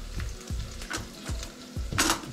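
Onion frying in a pan on the stove for meatballs with rice and carrots, a soft steady sizzle with a few scraping stirs and light clinks, quiet and close, no voices.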